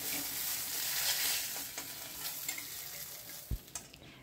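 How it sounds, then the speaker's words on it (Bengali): Fish head pieces fry in hot oil with a dense, close sizzle that fills the first seconds and then thins. A sharp knock of a utensil on the pan sounds near the end. "এবার আরেকটা পিঠও ভালো করে একটু ভেজে নিচ্ছি।"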